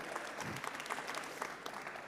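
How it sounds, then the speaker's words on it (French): Brief, fairly quiet applause from a conference audience at a ChangeNOW 2024 session, many hands clapping in a dense patter for a couple of seconds. "On peut applaudir Adrienne."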